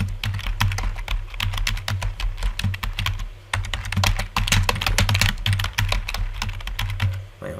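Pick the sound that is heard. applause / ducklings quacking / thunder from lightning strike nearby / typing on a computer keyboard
typing on a computer keyboard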